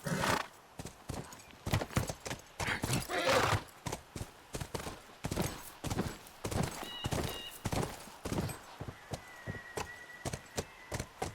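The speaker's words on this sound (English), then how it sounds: "This is cool, just riding a horse through university." Horse hooves clip-clop steadily in The Last of Us Remastered on PS4 while riding through a university town, a close, rhythmic trot with a brief whinny and a quiet voice talking over it.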